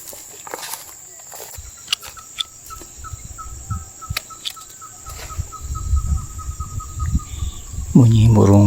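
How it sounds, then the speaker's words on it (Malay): Birds whistle and call back and forth in a morning fruit garden, with a steady repeating chirp over insect buzz, soft rustles and footsteps, and a brief low sound at the end. "Bunyi burung-burung bersiul-siulan, saut-sautan."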